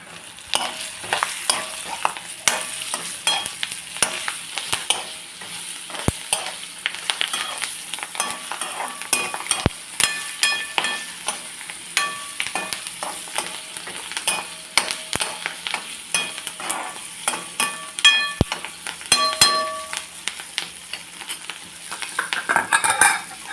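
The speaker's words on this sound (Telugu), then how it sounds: "ఇందులోకి ఈ తరిగిన పచ్చిమిరపకాయలు కూడా వేస్తున్నానండి" Chopped white green chillies fry and are stirred in a pan, giving a steady close sizzle broken by frequent scrapes and clinks of a utensil against the metal for the full stretch.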